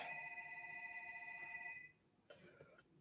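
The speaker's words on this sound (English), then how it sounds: "Uh-oh, we got a phone call." A telephone rings indoors for an incoming call, giving a sustained electronic trill that stops, then one short second ring, all fairly faint.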